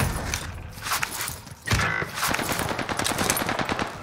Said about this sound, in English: Wait, who's shooting me?